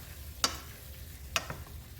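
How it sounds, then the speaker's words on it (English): A spoon stirs curry chocho with saltfish in a pot. Two short scraping knocks sound close and clear over a faint, quiet background. "Then I give it a stir again."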